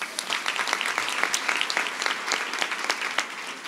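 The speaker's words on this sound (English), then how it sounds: "Give him a round of applause." A room of conference attendees claps for an incoming Nationwide executive speaker, a steady patter of many hands with sharp individual claps poking through, moderately loud and without voices.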